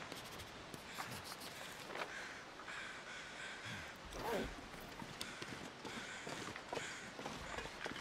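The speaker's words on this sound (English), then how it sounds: "All right, there's the crows there." Crows cawing in the video game The Long Dark, a few harsh calls rising over a busy wintry ambience with crunching, clopping footsteps, moderately distant and never very loud.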